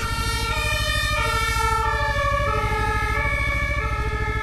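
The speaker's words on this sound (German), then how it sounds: "Mal schauen, wie die Leute reagieren, wenn sie einen Krankenwagen hören." Loud, continuous ambulance siren wailing up and down over a low engine rumble, steady and close throughout as it passes.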